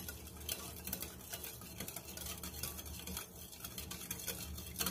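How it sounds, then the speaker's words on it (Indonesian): A sugar mixture for colorful snow skin mooncakes is stirred in a bowl until the sugar dissolves, giving a steady, soft scraping with light clinks of utensil on bowl, fairly quiet and without talk. "Kemudian kita aduk rata hingga gulanya larut ya."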